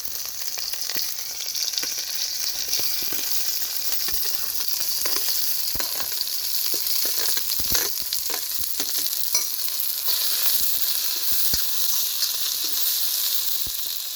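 Onion, ginger, garlic and green chilli sizzle with cinnamon, cardamom and cloves in a village-style pan for paneer butter masala. A loud, steady crackle of frying runs throughout with occasional scrapes of stirring.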